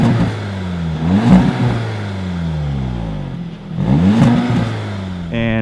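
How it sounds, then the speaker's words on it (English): A 2017 Audi S3 exhaust revs loud and close in two rising and falling sweeps, with a steady idle between them. "Sounds really good, so you can hear the exhaust clip right here."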